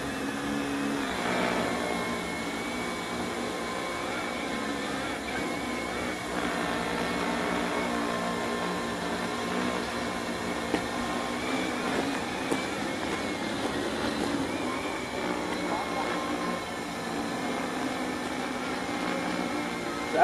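An APS microdrone hovers and flies while holding position on GPS, giving a continuous, steady whine of whirring rotors at a constant level for about twenty seconds. Faint talking sits under the sound.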